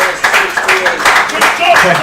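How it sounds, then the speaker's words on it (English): A small crowd in a bar claps together, steady applause that rises and stays fairly loud for a couple of seconds, with a voice talking over it. "Clap it up again."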